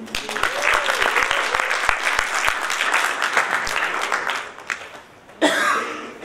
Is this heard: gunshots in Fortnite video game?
no